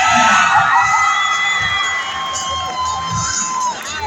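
Loud cheering, whooping and shouting from the audience at a BMX rally in Rio Linda, with high excited voices, including children's, yelling together in a dense, continuous burst close by.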